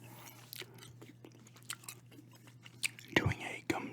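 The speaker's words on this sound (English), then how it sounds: "Doing a gum chewing," Gum is chewed close to the microphone in an ASMR session, making soft wet clicks and smacks at an irregular pace. The chewing sits over a low steady hum, with quiet whispered talk between the chews.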